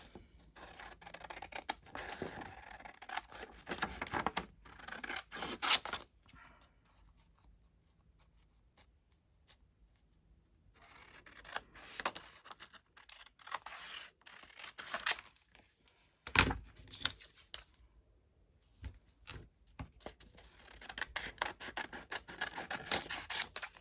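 Scissors snip through thick paper while cutting out pockets for a junk journal, quiet close bursts of cutting and rustling separated by stretches of near silence.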